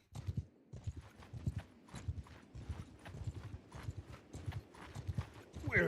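Mounted horses in a video game clip-clopping together in a steady, brisk rhythm of many hoof strikes, moderately close and fairly quiet, with a faint whinny and no voices.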